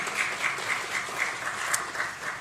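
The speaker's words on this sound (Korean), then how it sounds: "박수로 한 번 더 격려하도록 하겠습니다" Applause from a Korean church congregation during a family worship service, a soft, distant patter of many hands clapping in a reverberant hall, fairly even in level throughout.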